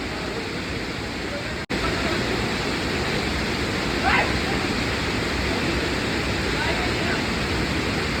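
Poovathar Kund waterfall in Kannur, a steady broadband rush of falling water that holds constant throughout, with a brief dropout near the start and a faint voice-like murmur partway through.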